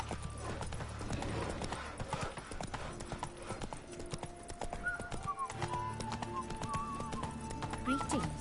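Roach the horse in The Witcher 3 clip-clops along with rhythmic hoofbeats, an occasional whinny and snort, under game music and brief male speech.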